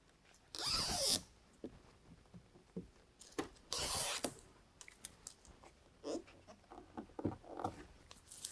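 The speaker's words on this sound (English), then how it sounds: "now I can slowly go ahead and pull away the tape and bear down as I go" Adhesive tape backing is peeled in short ripping bursts from a vent visor on a 2019 Chevy Silverado, two louder tearing strips followed by softer scattered crackles and handling noises, close and quiet without speech.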